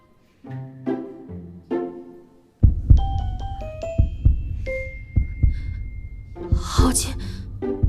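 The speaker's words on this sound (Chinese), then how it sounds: "为何明明解开了狐媚香，我心跳还是如此快？" A dramatized heartbeat pulses as low, deep thumps in a steady rhythm through a fantasy romance drama scene, alongside soft musical tones and a voice speaking.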